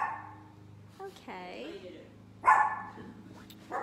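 A few sharp barks from a dog somewhat away, sounding among people talking nearby.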